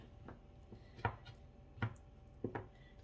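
A knife cutting carrots in half on a cutting board, four quiet, distinct thunks spaced irregularly over a few seconds, with faint background room noise between them.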